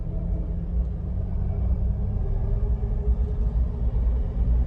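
Jeep engine in 4 low with some gas, a deep steady rumble close by, continuous and fairly even with slight swells, no talk.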